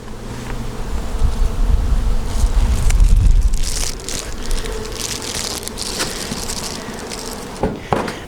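Dense, steady buzzing of many honeybees from a crowded hive, loud and close, swelling and easing throughout with a few handling crunches toward the end.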